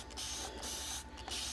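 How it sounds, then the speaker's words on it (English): A hand sprayer mists worm tea onto the air roots and stems of a dragon fruit plant, giving steady soft hissing bursts with brief pauses between squeezes, faint and close. "I spray the air roots and the stems of this dragon fruit."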